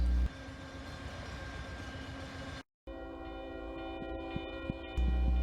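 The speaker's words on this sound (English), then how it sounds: "a northbound stack train rolls through McLean en route to the Joliet Intermodal Terminal" A northbound double-stack freight train rolls through McLean, Illinois, heading toward an intermodal terminal. It gives a steady, loud rumble with a brief dropout partway through, and a few sharp clanks and squeals over the rolling roar.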